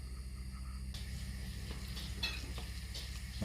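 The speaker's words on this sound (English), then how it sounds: "That's them just starting to sizzle." Woodpigeon breasts beginning to sizzle in a frying pan, a soft steady crackle of frying with a few light clinks and stirring scrapes against the pan, close by and fairly quiet over a low background hum.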